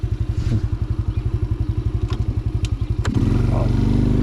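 An RKS Easy Pro 50 motorcycle engine throbbing in a fast, even idle pulse up close, then revving up into a smoother, louder drone as the ride begins.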